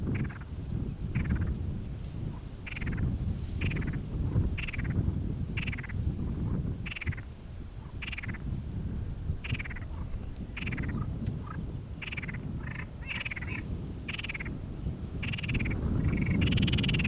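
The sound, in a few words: frogs croaking near Schiphol Airport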